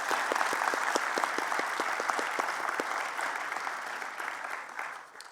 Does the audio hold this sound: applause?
yes